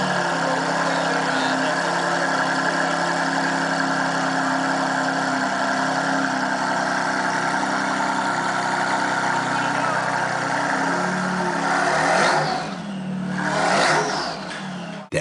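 Sustained engine drone from a Chrysler ME412 with a quad-turbocharged 6.0-liter V12 in a Forza racing game, steady under a narrating voice, with a brief rev swell near the end.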